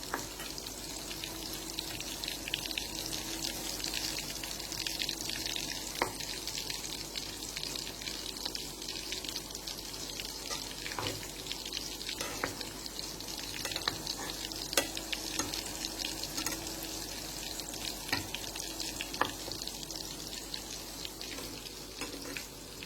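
Chicken pakoras sizzle steadily in hot oil, a continuous frying hiss with faint stirring and turning noises throughout, no voices.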